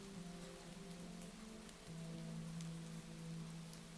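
Steady rain pattering on a surface, a dense continuous hiss with scattered droplet ticks and a low hum underneath, fairly close and even throughout, with no voices.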